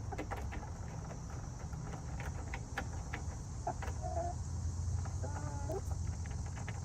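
Backyard chickens with a rooster gathered around a waterer, giving soft scattered clucks and brief calls over a steady low outdoor hum, faint and moderately close.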